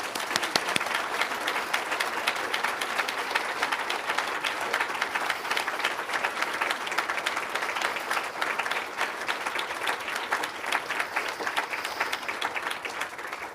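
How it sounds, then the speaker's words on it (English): Sustained applause from a conference audience at an international security conference, a thick, even wash of many hands clapping that holds steady and close for over ten seconds with no speech over it. "I think that it is the place where we should now applaud"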